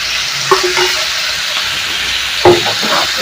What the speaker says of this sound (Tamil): போட்டு நல்லா வதக்கிக்கலாம் இப்போ காய் மட்டும் கொஞ்சம் நல்லா வதங்கி வரட்டும் சவ் சவு